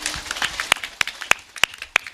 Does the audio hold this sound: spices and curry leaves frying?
no